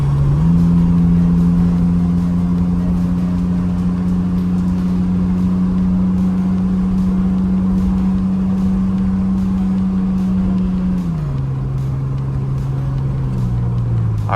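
A Ford Explorer's six-cylinder engine drones smoothly from inside the cabin while driving, a steady hum holding pitch before dropping lower as the car eases off or shifts, with road noise underneath and no talking.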